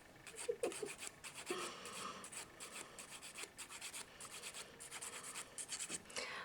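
A coarse-grit hand file rasps over SNS dip-powder nails in quick repeated strokes, some bursts closer and harsher than others, continuing steadily for several seconds with no one talking.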